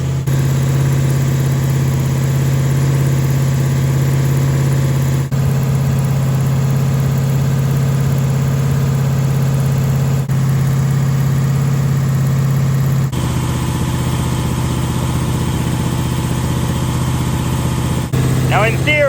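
A Mopar 440 six barrel V8 runs steadily during its break-in, a loud, close, continuous drone with an even low throb that barely changes.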